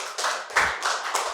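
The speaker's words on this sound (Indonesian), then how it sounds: "Tepuk tangan lu buat Aldi." A comedy-show audience claps for a stand-up comedian, a short burst of close applause that swells and dips in a few waves over a second or so, with no talking.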